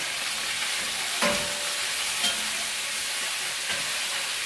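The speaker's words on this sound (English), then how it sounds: "Let's keep these sausages moving around" Sausages in a frying pan give a steady bright sizzle, with a couple of soft scrapes as they are stirred around. No one speaks over it.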